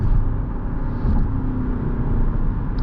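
Cabin view of a 2023 Lexus ES300h F Sport hybrid accelerating hard onto a highway: a continuous low engine and road roar that swells slightly, with no talking.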